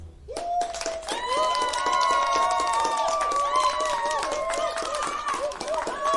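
Children in a classroom clap together in a fast, steady patter that runs the whole time, with excited young voices calling out over the applause.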